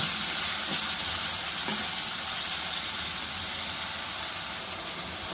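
Potatoes frying in a pan for a Bengali banana-flower dish, a steady close hiss of sizzling oil throughout with no talk.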